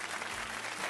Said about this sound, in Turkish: alkışlarınızla yanıma davet ediyorum